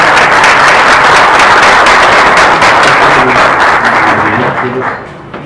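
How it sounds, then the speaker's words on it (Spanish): Audience applause at a contemporary Andean poetry gathering in Ecuador, a dense, steady wash of clapping that fills the room and fades toward the end, with faint voices underneath. "con un afectuoso aplauso."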